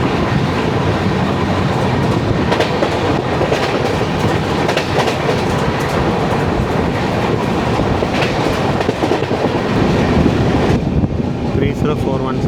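The 12675 Kovai Express from Chennai Central to Coimbatore runs at speed, heard from inside an AC chair car as a loud, constant rumble with rhythmic clickety-clack of wheels over rail joints.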